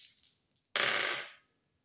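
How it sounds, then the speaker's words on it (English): A short burst of clattering as small hard objects tumble and rattle across a surface, loud and close, then quickly fading to silence. "rolling the dice to see what I need to shuffle the deck to"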